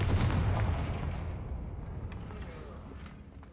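Confringo fire spell from Hogwarts Legacy blasting into a heavy, booming explosion that hits loud at the start and then rumbles away into a fading roar.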